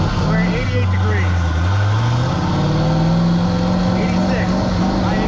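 A car of roughly 1000 to 1150 horsepower with a Golen short-block engine revving on a dyno: a loud, continuous engine roar whose pitch sags and then rises steadily as it pulls, close up.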